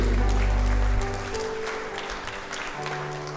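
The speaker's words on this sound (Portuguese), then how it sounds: "uma salva de palmas a Ele, Jesus Cristo" A church congregation at a Christmas morning Methodist service in Curitiba applauding together, dense steady clapping that slowly thins out, with a low sustained organ or keyboard tone underneath.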